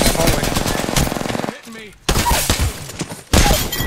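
Rapid shotgun blasts from the Mozambique in the video game Apex Legends, loud dense bursts of gunfire in quick succession, broken by a short near-silent gap and then resuming, with game noise and voices mixed in.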